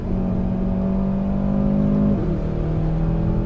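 An Aston Martin Vantage engine accelerates hard on the Miami F1 circuit, a loud sustained rising engine tone from inside the car that dips briefly at a gear change before pulling again.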